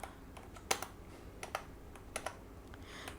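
Soft keystrokes on a computer keyboard tap out in short, irregular clusters, quiet and close with pauses between bursts.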